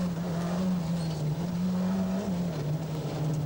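A 1988 Ford Sierra Cosworth rally car on a wet, muddy stage of the Circuit of Ireland, its engine holding a loud, steady droning note at close range with slight pitch shifts and road noise.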